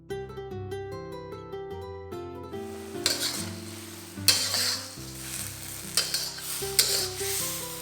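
Shrimp simmer in a tamarind (asam) sauce with oyster sauce and sugar, sizzling steadily in a pan while a utensil stirs and scrapes in repeated bursts, after a short stretch of music.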